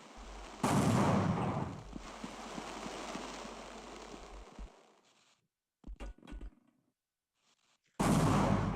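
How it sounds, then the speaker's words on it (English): A grenade blast clearing mines in Half-Life: a sudden loud boom with a long rumbling roar that fades out, a few short sharp bursts, then another heavy blast at the end. "Use that grenade to clear out the mines."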